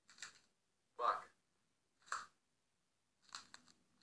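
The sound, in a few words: leek twisted as a bone-cracking sound effect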